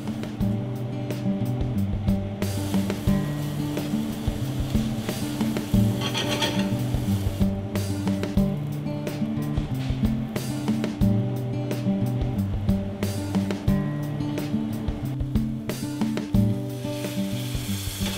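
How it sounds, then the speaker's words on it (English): Chopped onion, garlic and cracked black pepper cooking gently in melted butter in a saucepan, a steady close sizzle with repeated stirring scrapes and taps against the pan, alongside faint background tones. "Gently melt the butter in a saucepan, then add the chopped onion and garlic and cracked black pepper"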